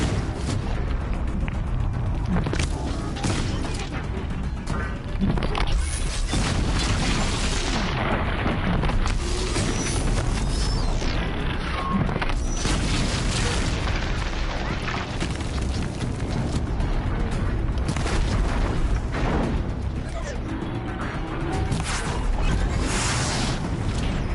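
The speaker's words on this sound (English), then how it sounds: "Fire bombs!" Fire bombs bursting in Horizon Zero Dawn, a dense, continuous barrage of loud booms and crackling blasts that runs nonstop through the whole stretch with no pauses.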